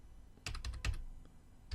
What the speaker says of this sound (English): So we'll type in the effects and presets